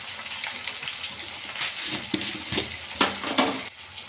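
Salt being stirred into brinjal frying in a pan, with a steady sizzle and scraping stirs and a few sharper utensil scrapes near the end, close and fairly soft.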